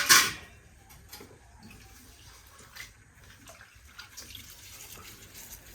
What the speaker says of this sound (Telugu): ఇంకొక చుట్టూ కడుగుతే మంచిగా ఉంటాయి నీట్గా. 2-3 చుట్టూ కడగాలి